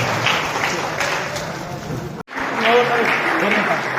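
An audience claps at a school ceremony at an international academy, a broad wash of applause that cuts out abruptly midway and then resumes, with some voices mixed in.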